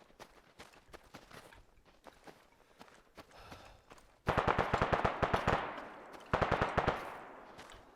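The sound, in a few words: gunfire from a video game (ArmA)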